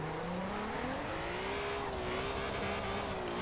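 A VW Corrado in a driving game accelerates hard, its engine note climbing steadily in pitch with a clear, sustained tone over road and tire noise, heard at a moderate, even level.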